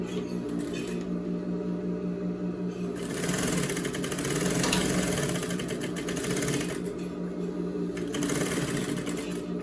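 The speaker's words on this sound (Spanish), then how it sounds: "cosemos derechito desde arriba hacia abajo" A sewing machine runs steadily, stitching a straight seam down camouflage fabric for an A-line cargo-style skirt, a continuous close mechanical whir with a slight rise and fall in speed.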